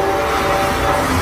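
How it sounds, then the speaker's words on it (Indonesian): A train rumbles past at close range, a steady loud roar with a sustained horn-like tone running through it. "Nah, lihat teman-teman, di sini ada kereta cepat."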